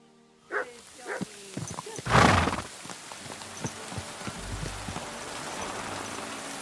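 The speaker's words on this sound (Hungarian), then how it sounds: "És már megint esik az eső." Rain in the Kingdom Come: Deliverance II video game falls as a faint, steady patter behind scattered knocks, hoof-like clops and a brief louder burst, all at low level.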